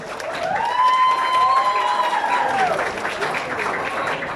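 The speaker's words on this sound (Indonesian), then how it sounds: "Kita berikan aplaus" Crowd applause with clapping and cheering at an Indonesian national gathering, a steady roar of hands filling the hall, with a voice carrying over it near the start.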